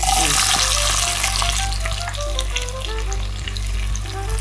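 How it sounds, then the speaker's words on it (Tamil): Onions sauté in hot oil for garlic kuzhambu, a steady close sizzle with occasional stirring scrapes and crackles, no voices heard. "வெங்காயமும் போடுறேன் நல்லா எண்ணெயில் வதங்கணும்"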